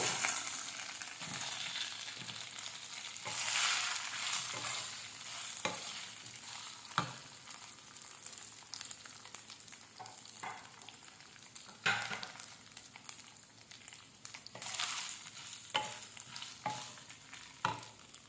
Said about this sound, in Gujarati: બટાકા ધીરા ગેસે સતળાય